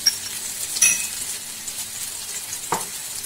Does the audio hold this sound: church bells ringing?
no